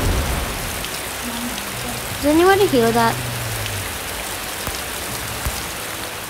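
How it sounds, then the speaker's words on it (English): Acid rain spell falling during a match of the mobile strategy game Stick War Legacy: a steady hiss of rainfall with a brief rising tonal game effect midway, while a voice speaks over it. "Acid rain."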